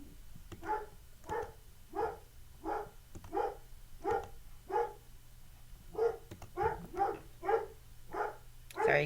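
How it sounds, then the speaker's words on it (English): A dog barks repeatedly in the background, a steady run of evenly spaced barks at moderate distance, fairly faint throughout with no talking. "you can probably hear my dog in the background"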